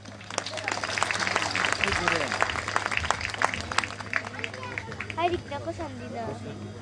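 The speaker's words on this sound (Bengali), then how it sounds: "সিলেট বিভাগের জন্য আর একটু যদি আমরা করতালি দেই।" Audience at a Bengali annual general convention applauding the Sylhet division, a dense rattling of many hands clapping together, sustained and moderately loud, with talk mixed in.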